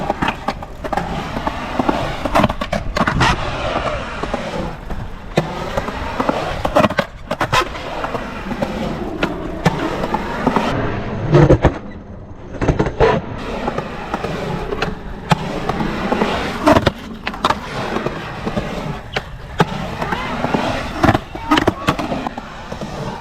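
Skateboard wheels roll loudly and continuously on a ramp while doing a 50-50 stall to fakie on coping, with repeated clacks and grinding bursts and a brief quieter lull midway.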